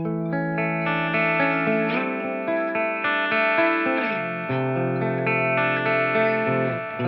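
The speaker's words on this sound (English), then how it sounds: "For today's demo, I'm using my 1960 Gibson Melody Maker, and this has Lawler Melody Maker sized P90s." A 1960 Gibson Melody Maker electric guitar with Lawler P90 pickups, played through a JMP 2203 amp plugin, rings out in sustained distorted chords with a shimmering modulated effect, loud and continuous with no talking.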